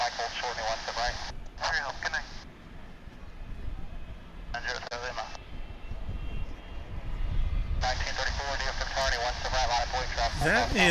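An American Airlines Boeing 737-800 jet rumbles as a steady low roar at a busy airport, building louder toward the end, mixed with crackly radio transmissions.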